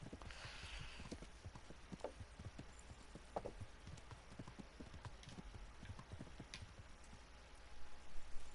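Horse hooves clip-clopping at a steady trot in the medieval video game Kingdom Come: Deliverance, a continuous rhythmic patter of moderate loudness with no talking over it.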